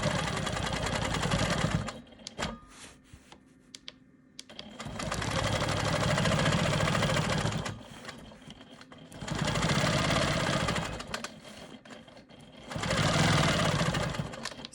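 A sewing machine quilts an Ohio Star quilt block in three long bursts of fast, even stitching, with short quiet pauses between runs and the machine close and clear.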